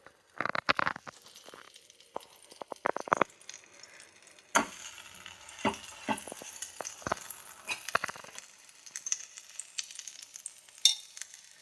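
Bread and vegetable sandwich cooking in butter on a hot tawa griddle, with soft, scattered sizzle broken by sharp scrapes and taps of a spatula.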